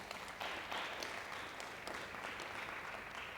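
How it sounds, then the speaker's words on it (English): Faint, steady applause rises from an audience at a live-streamed South African event as panel guests are thanked, a soft continuous wash of hand claps heard from some distance with no voices over it. "Please give them all a very warm round of applause."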